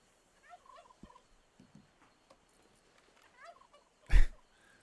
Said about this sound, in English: Come along, turkeys.